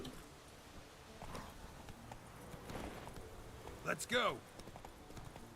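Roach, a horse in The Witcher 3, gallops with quick rhythmic hoofbeats in the game while someone talks over it and urges the horse on.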